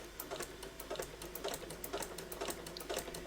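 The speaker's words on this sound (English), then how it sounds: "we're just going to stitch them all the way around, doing those corners exactly the same" A sewing machine stitches around a single-fold quilt binding, its rapid needle chatter running in regular bursts, faint and close, with no talking.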